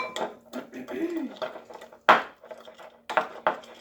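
Butter is mixed with salt, pepper and garlic powder in a bowl, heard as soft scraping and a few sharp utensil clinks against the dish while a person talks.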